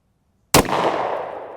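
A single sharp shot from a Hi-Point 10mm JXP10 pistol at a shooting range, close and loud after a moment of silence, followed by a brief fading ring.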